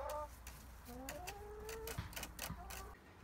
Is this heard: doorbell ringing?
no